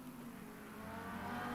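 Steady engine drone of a Lamborghini GT3 race car in the Le Mans Ultimate racing game at Circuit de la Sarthe, a continuous hum that rises slightly, faint and alone.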